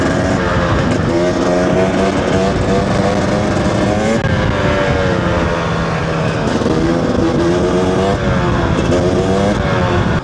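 A 2-stroke 300cc motorcycle accelerates hard in third gear, its loud, continuous engine wail rising and falling steadily and close by throughout, with no talking.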